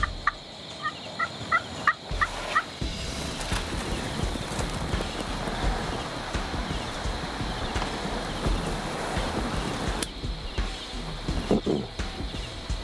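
Wild Osceola turkey gobblers gobbling near decoys in an open pasture, a few rapid rattling gobbles early on over steady wind and rustling noise, with scattered thumps.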